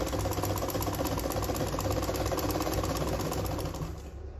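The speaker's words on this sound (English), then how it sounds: "Then you now sew with your 1/2 inch straight line." A sewing machine runs a straight half-inch seam on a sleeveless gown, a fast steady whirring rattle close by that holds for several seconds and then slows at the end.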